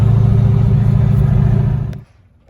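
A turbocharged LS-engined car cruises with a loud, steady low engine drone and road rumble that drops away abruptly near the end.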